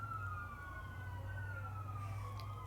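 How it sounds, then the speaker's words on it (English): Emergency vehicle sirens wail slowly and steadily along a main street, faint and far off under a constant low traffic rumble. "All right, there are the sirens."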